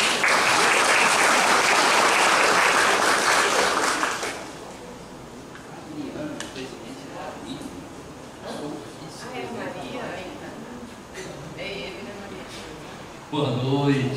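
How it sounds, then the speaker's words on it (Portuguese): An audience at an evening ceremony gives a dense burst of applause for about four seconds. The clapping fades, and a speaker then talks over a quiet hall. "Uma salva de palmas para ele."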